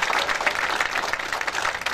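Steady applause from a crowd at a public event, dense clapping that is loud and fills the whole moment with no pause.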